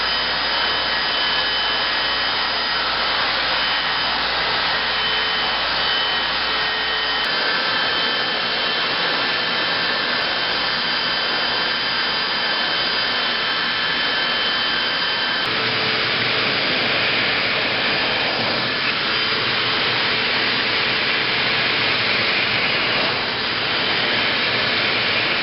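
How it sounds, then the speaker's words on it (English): A vacuum cleaner runs nonstop, its hose hooked to a crevice tool and linked to a clipper trimming a dog's coat. The whooshing drone stays loud and close throughout, with no talking. "And then turn on the vacuum and you're ready to cut."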